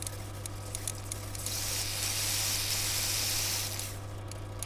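A rebuilt BMW E32 fuel injector spraying brake cleaner, giving a soft hiss that swells in the middle of the clip and fades near the end over a steady low hum.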